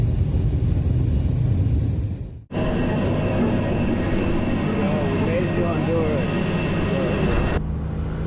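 Airliner cabin in flight, a loud steady engine roar and hum that cuts out briefly and resumes, with a voice talking over it.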